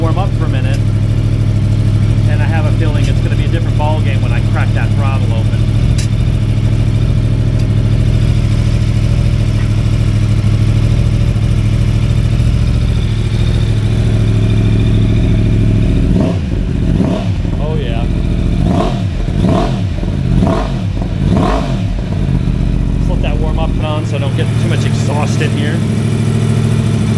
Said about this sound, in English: I'm gonna let it warm up for a minute, and I have a feeling it's gonna be a different ball game when I crack that throttle open.